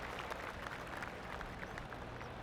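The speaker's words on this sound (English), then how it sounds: "Oh, I can hear the golf claps around the course." Soft, polite golf gallery clapping in the video game PGA Tour 2K25, a continuous light patter from a small crowd heard at a distance against a quiet outdoor background.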